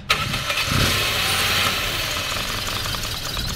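Toyota Corolla engine starting, a sharp crank-over at the outset catching into a loud, close, rough idle that settles into a steady mechanical drone.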